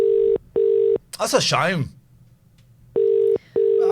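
A telephone call rings out unanswered: two pairs of evenly spaced ring tones with a gap between, and a short burst of voice in the middle of that gap.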